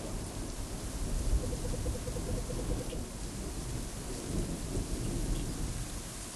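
Steady heavy rain with a continuous rumble of thunder beneath it, a dense, even wash of sound with no voices.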